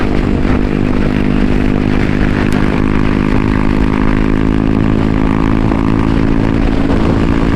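Yamaha XMAX V3 scooter engine running steadily during its break-in period, a continuous near mid-pitched drone with slight revving and no clear pauses.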